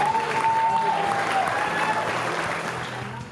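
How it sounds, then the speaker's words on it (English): Audience applause rings out steadily through the full clip, a dense, fairly loud clapping that eases slightly toward the end, with a faint tonal hum and some voices mixed underneath. "we should give them a huge round of applause"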